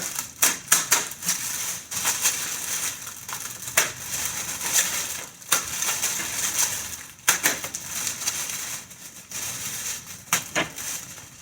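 Plastic blister packaging of a diamond painting kit crinkles and crackles as it is pressed by hand, a dense run of sharp clicks and crunches close to the microphone with no speech.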